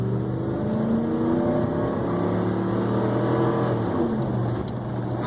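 A 2004 Ford F150 crew cab 4x4 with a 5.4 3V engine revving at high RPM, a loud sustained droning roar that holds near steady, then eases slightly at the end.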